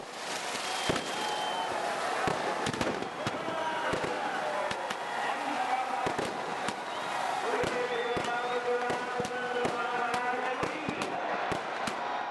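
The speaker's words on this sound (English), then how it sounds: "Firework is the finale of 10-day long session of festivity." Fireworks pop and crackle in rapid, irregular bursts throughout, with people talking and a crowd murmuring underneath, at the fireworks finale of the Dasera festival in India.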